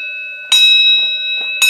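A bell rings at a professional wrestling academy in Roseburg, Oregon, struck twice about a second apart. A steady bright tone carries between the loud, close strikes, and no one talks.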